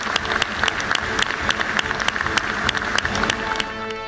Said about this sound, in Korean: 우리 모두 한번 우리 김한길 위원장님과 위원님들께 박수 한번.